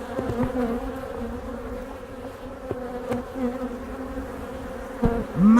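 Honeybees buzz around a beekeeper's open hive, a close, continuous droning hum with individual bees swelling louder as they pass near, plus a few faint knocks; no one speaks.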